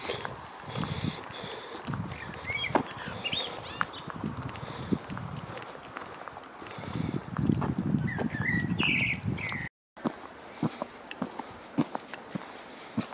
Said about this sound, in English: Might be able to hear the birds singing.